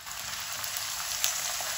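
Steady hissing sizzle of ginger garlic paste frying in a hot pan, close and continuous with faint crackles, no voices.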